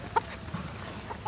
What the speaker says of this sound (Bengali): দেখুন সবজি খেতে মধ্যে দৌড়াচ্ছে মুরগিটা